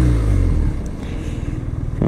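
A 2022 BMW R nineT Pure motorcycle's large engine rumbles loud and close in a deep, throbbing idle with a slight pulsing beat over a couple of seconds.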